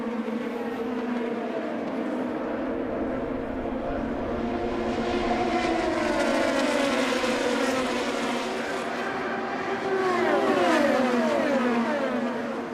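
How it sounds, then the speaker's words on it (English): IndyCar race cars accelerating on a restart at the Indianapolis 500, engines whining and rising in pitch as several cars build speed together, a loud sustained roar with passing swells. "Max Chilton, the leader, starts to accelerate"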